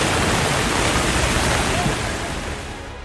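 Floodwater from heavy rain rushes in Nepal as a dense, steady roar of turbulent water, loud and continuous, easing slightly toward the end.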